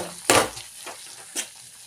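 Onion and mushroom masala being stirred in a pan at a roadside stall: a sharp scrape at the start, then two softer stirring strokes over a faint sizzle, with no talking.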